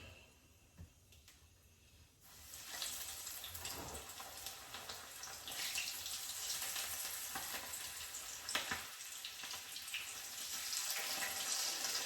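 Chicken wings sizzle loudly in a hot frying pan after a quiet start, a dense crackling hiss that keeps building, with a few clatters from the pan.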